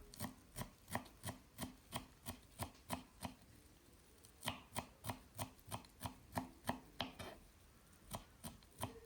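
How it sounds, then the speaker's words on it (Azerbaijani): A bunch of fresh coriander chopped with a knife on a board, a steady run of about twenty crisp, close knife strikes with one short pause midway, no talking. "Və üzəri üçün bir dəstə kişnişi də"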